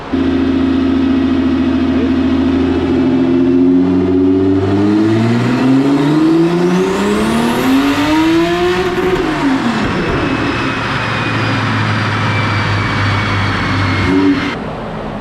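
A tuned Audi S4 drift car engine on a dyno run idles, then revs up in a long rising sweep to a loud peak, drops off and settles back, with a brief blip near the end.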